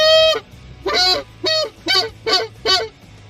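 Goose call device honking out six loud, nasal goose-like honks in a steady rhythm, heard close up over a low engine hum inside a vehicle at a McDonald's drive-thru; a voice imitates the goose.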